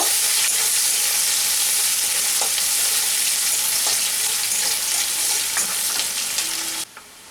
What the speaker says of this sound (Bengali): পেঁয়াজটা আমাদের ভাজা হয়ে গেছে